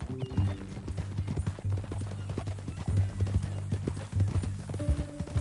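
A horse in a video game, with close, rhythmic clip-clop hooves throughout and a brief whinny, against a low steady background hum.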